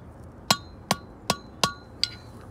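A hammer striking a trailer wheel bearing on a Dexter 5200 pound axle, five sharp metallic ringing blows at a steady rhythm, close and clear with no talking.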